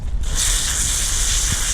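Steady hiss of a water spray rinsing a silver part of a pool filter, starting abruptly and running continuously at close range without talk.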